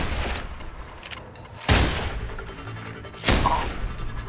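Two sharp sniper rifle reports ring out about a second and a half apart in the video game Sniper Ghost Warrior 2, each a loud broadband crack with a short fading tail over a low ambient background.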